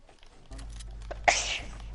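A single sharp sneeze bursts out near the mic against a steady low hum, with gaming chatter around it.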